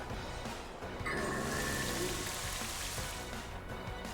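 Steady rain sound effect from the Rain Dance move in Pokémon Violet, a continuous hiss of falling rain with pattering drops, loud and unbroken throughout.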